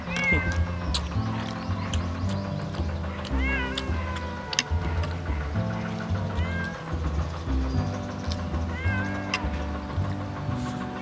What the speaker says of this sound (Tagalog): Ingay ng pusa po dito.